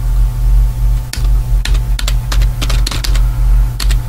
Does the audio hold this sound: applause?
no